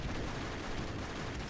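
Shotgun fire in the video game Broforce, a dense burst of gunfire and explosive crackle packed into a short, noisy blast with no talking.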